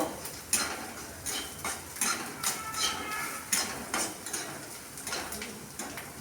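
Boiled green banana peel and potato stirred in hot oil in a pan, giving a run of clinks and scrapes of a spatula against the metal at an uneven pace, close and fairly quiet, with no one talking.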